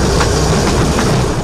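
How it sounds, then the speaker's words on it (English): A metre-gauge trial train rolls along a revived railway through the valleys and hills of Kenya's Rift Valley, its wheels and cars rumbling loudly and steadily close by. "this trial train snakes its way through the picturesque valleys and hills of the Rift Valley landscape"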